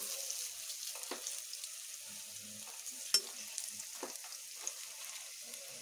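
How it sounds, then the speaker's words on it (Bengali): Night jasmine leaf pakoras sizzle steadily in hot oil after being flipped, a continuous bright frying hiss with a few soft pops and a spatula clink partway through, close and alone. "উল্টে বেশ একটু লাল লাল করেই ভেজে নেব।"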